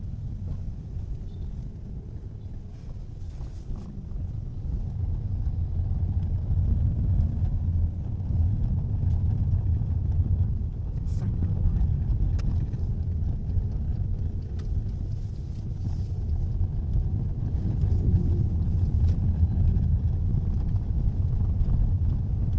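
Road traffic heard from inside a car moving slowly through congested streets in Mandaluyong, a steady low rumble of engines and tyres with wind buffeting that continues throughout and no speech.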